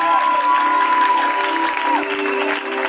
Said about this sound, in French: on est en train d'acclamer Jésus